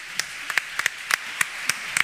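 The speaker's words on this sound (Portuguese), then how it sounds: "Uma salva de palmas." A few scattered claps from an audience at a round-table business conference, sparse and fairly faint, individual hand claps spaced irregularly.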